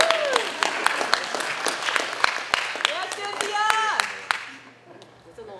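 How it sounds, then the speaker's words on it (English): A crowd at a community association meeting claps steadily in sharp, distinct claps, with a voice cheering over the applause before it fades out. "Clap, clap, clap."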